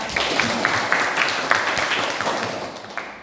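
Students in a high school classroom give a short burst of applause, a small group clapping briskly and close by for a few seconds.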